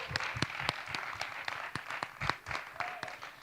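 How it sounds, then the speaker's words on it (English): A festival audience at the Ubumuntu Arts Festival gives panelists a final round of applause: scattered, uneven clapping with distinct individual claps and a few louder bursts, moderately loud and slightly thinning toward the end. "one last round of applause for all of them."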